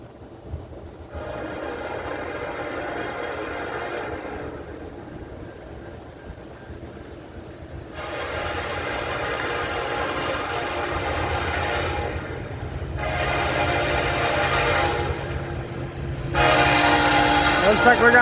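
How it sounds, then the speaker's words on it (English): A westbound Norfolk Southern single-lead empty coal train rolls past with a steady rumble, and its horn sounds in four long blasts that grow louder toward the end. "Looks like we got a westbound, Norfolk Southern, empty coal train coming at you."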